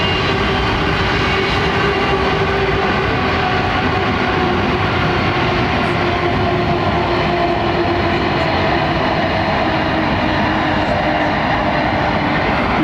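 Jet airliner engines with Engine Alliance power plants roar steadily and loudly on a runway at London Heathrow Airport, a continuous broad rumble with a high whine that stays unbroken.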